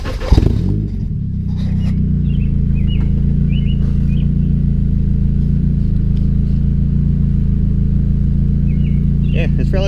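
A Nissan 240SX with a swapped Honda K24 engine and a small, relatively quiet exhaust starts up, then settles into a steady, deep, close idle rumble that holds throughout, with faint chirps in the background.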